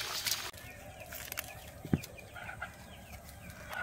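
A desi chicken clucks faintly in a Sundarbans village yard, a few short, scattered calls over quiet rustic background noise.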